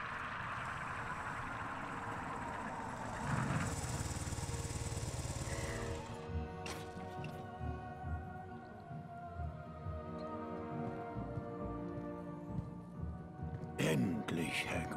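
Motorcycle engine roar in Harry Potter and the Philosopher's Stone on PS2, a loud steady drone for the first six seconds that gives way to music and other game sound.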